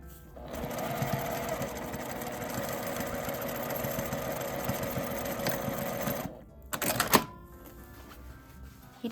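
A sewing machine runs steadily for about six seconds, stitching an insulated lunch bag with a thermal lining, then stops, followed by a brief burst of handling noise, all close and without speech.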